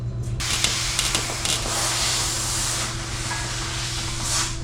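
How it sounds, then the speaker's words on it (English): Spray foam hisses steadily from a can onto a car's hood area, a continuous, close, broadband rush with brief pulsing variations and a low mechanical hum underneath. "Spray foam."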